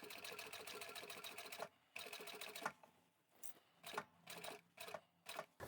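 Sewing machine stitching a jeans hem, rapid even needle chatter in bursts that stop and restart with short pauses between runs, close and quiet with no talking.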